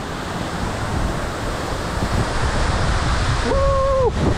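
Water pours down steadily at a hot spring waterfall, a dense continuous roar close by; near the end a short, higher whistle-like tone rises briefly over the rushing water.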